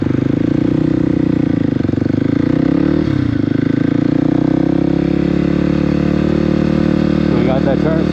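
A motorcycle engine runs loud and close, a steady rumbling drone with a brief dip in revs and then a slight rise, while a rider talks over it.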